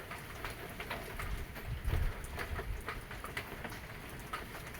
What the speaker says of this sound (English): it's a bit cold, and it's raining